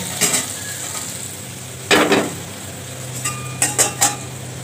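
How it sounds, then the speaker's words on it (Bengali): Shrimp being flipped in a hot frying pan, then a wok set down on the stove, heard as short bursts of sizzling and scraping with a few metallic clinks of cookware, close by and without talk. "আমরা এখন চিংড়ি মাছটা উল্টিয়ে নেব আর চুলায় কড়াই দিয়ে দেব।"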